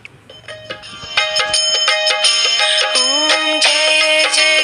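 A loud electronic aarti hymn with bell-like chimes and layered melodic tones plays steadily from a small talking Bhagavad Gita device, building in fullness after a soft start.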